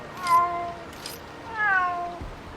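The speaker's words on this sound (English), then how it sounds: "Why are those cats?" Cats meow near a fishmonger in the fantasy role-playing game Drakensang: The River of Time, two drawn-out meows in turn, close and clear with no talking.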